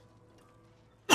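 A single sudden cough bursts loudly at the very end after near silence, close to the microphone.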